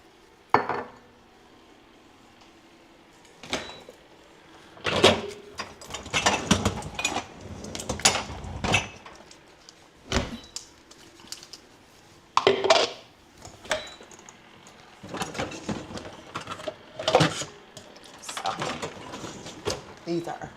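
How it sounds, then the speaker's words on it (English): Clean dishes and cutlery are unloaded from a kitchen dishwasher in a busy run of clinks, clatters and scrapes with short pauses, close and fairly loud. "I have to get my stuff out of the dishwasher because we've been using it over and over."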